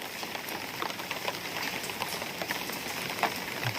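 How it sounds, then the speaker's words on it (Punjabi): Steady rainfall patters outside a gurdwara gate in the early morning, a soft, continuous hiss of drops on surfaces at moderate distance with no voices. "ਬਰਸਾਤ ਪੈ ਰਹੀ ਹੈ ਜਿਹੜੀ"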